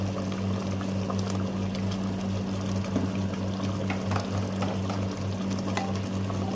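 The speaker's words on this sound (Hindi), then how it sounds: "अब हम इसमें शामिल करते हैं सिर्फ 6 टेबलस्पून कुकिंग ऑयल।" Cooking oil, six tablespoons, pours into a mutton karahi seasoned with black pepper, giving a steady close liquid rush and sizzle over a constant low hum, with no talking.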